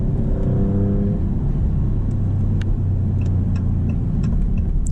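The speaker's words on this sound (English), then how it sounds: "So now we're in 3rd gear. We're gonna go down to 2nd." Maserati GranCabrio Trofeo engine dropping from third to second gear, a steady close-up rumble with a brief rise in engine note early on, then settling under continuous road and wind noise.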